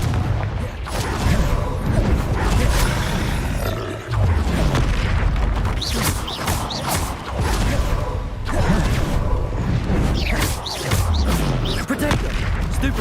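Confringo blasting spell explosions in Hogwarts Legacy combat, a loud continuous barrage of booms, roaring blasts and crackles layered with game creature sounds, dense throughout with brief dips between volleys.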